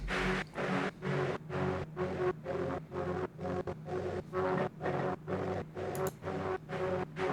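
Analog lab synth lead processed with chorus, overdrive, EQ and a limiter, playing steady rhythmic pulsing notes with regular short gaps, sustained and full, alone without voices.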